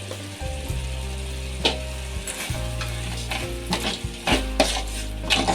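Tomato gojju cooks in a pan with a close, steady bubbling sizzle, broken by a few sharp clatters and scrapes of stirring.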